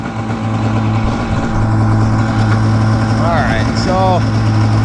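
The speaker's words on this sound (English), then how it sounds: "now I got it running on the hose. I just cranked the idle up on it" A DASA engine fitted in an old jetski idles steadily while running on a hose for water, with the idle turned up. The even mid-range hum stays close and continuous, and brief chirpy sounds are heard over it.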